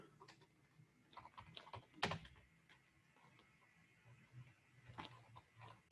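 Code is typed on a computer keyboard, quiet clustered keystrokes in uneven bursts with a few louder taps and short pauses, close and alone.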